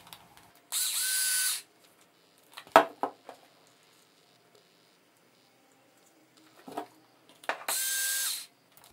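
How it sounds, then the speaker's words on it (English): A power screwdriver drives screws into the side plate of a C-RAR model, with two short loud whirring bursts separated by small clicks and taps of handling in an otherwise quiet room. "Finally, screw the side plate on."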